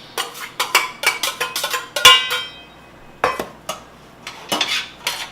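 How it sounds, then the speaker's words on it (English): Green peppers and onions stirred in a pan as they brown: a series of sharp metallic scrapes and clinks of a utensil against the pan, close and fairly loud, coming in irregular bursts with no talk. "So now we're browning, so we're going to start adding our components. This is our green peppers and onions."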